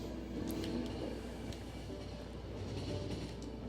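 A train runs in the video game The Final Station, giving a steady low rumble with faint rhythmic rail clatter and occasional light clicks, held at an even moderate level with no speech.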